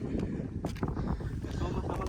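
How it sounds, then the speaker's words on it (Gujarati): Cold wind blows steadily across a hilltop in hot summer, a soft low rumble of gusts buffeting the microphone at close range throughout. "ખરા ઉનાળે આપણે આવ્યા છીએ તો એટલો ઠંડો પવન આવે છે"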